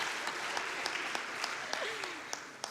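A congregation at the Unity of Nashville service applauds a church group celebrating its anniversary, soft, fairly thin clapping that carries on steadily for a few seconds in a reverberant room.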